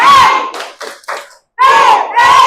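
A school class performs the 'tepuk motor' clapping chant in an Indonesian classroom, with loud group chanting in bursts, a brief pause, then two more loud chanted phrases, close and energetic.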